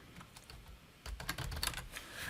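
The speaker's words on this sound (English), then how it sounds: "if I start typing in any cell on the spreadsheet" Typing on a computer keyboard into a spreadsheet cell, a short run of quick close key clicks that grows denser and louder halfway through, with no voice over it.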